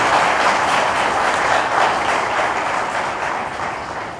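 A church congregation applauding loudly at an Ascension feast Sunday Mass, a dense, steady roar of many hands clapping that fades slightly toward the end, with no talk.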